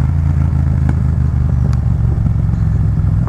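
A Yamaha MT-07 motorcycle engine runs loud and close while riding, a steady throbbing drone with light clatter and no talk.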